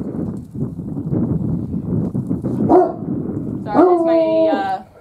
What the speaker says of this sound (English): that's my sister-in-law's dog. And he sees something that he deems to be a threat to the family, and he's alerting the whole world about it